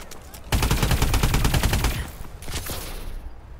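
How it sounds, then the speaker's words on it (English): Rapid automatic fire from a laser gun in Call of Duty Advanced Warfare, a loud close burst of dense repeated shots lasting about two seconds, then a shorter trailing volley that fades out. "No, it's a laser gun!"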